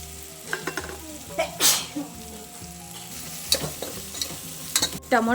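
Ginger garlic paste fries and sizzles in a pan for egg biryani, a bright crackling hiss broken by loud scraping stirs and clinks of a spoon against metal, close by.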